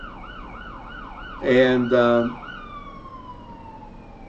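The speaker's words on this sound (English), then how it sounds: "just a little siren time here" Siren sound effect during a morning TV show, a wailing up-and-down tone cycling steadily, interrupted by a loud two-note electronic horn blast before a single sustained tone fades out.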